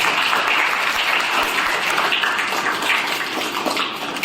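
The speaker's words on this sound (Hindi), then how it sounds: "तालियां एक बार लवीश के लिए" Children in a classroom clap for a classmate, dense sustained applause filling the room at a loud, steady level that eases slightly toward the end.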